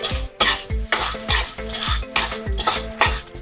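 Dabeli masala mixture being stirred in a pan, a utensil scraping and knocking against the metal in steady repeated strokes, close and fairly loud, with no talking.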